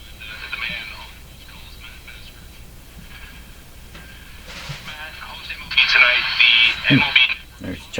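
A Canadian Marconi Model 339 five-tube radio playing with faint, crackly broadcast sound whose volume jumps erratically, surging loudly near the end; a person talks over it.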